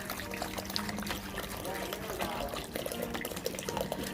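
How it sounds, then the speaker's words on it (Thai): Plain water pours into a thick plastic bag being filled for growing plants, a continuous splashing trickle heard up close, with someone speaking over it. "จากนั้นเราก็เติมเติมน้ำเปล่าลงไปเลยนะคะ"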